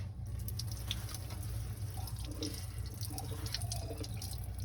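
Water running through a ball valve and out a plastic tube makes a soft, steady trickle and faint dripping over a constant low hum, quiet and unbroken.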